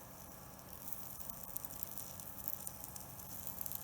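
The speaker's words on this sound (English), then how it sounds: "Ooh, you hear that? It's sizzling." Bacon sizzles on a hot Nvidia GeForce 8800 GTS graphics card, a faint, continuous crackling hiss with small irregular pops throughout.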